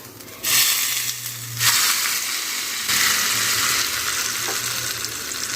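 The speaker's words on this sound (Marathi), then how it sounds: "फोडणी आपण आता घालून घेऊया यावर" Loud crackling sizzle bursts as hot oil tempering is poured over Konkan-style raw mango and chilli kharda, flaring up in waves and settling into a steady fizz, with a low hum underneath.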